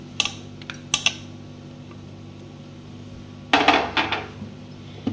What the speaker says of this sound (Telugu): ఎండుమిర్చి ఇవన్నీ నలుపుకుందాం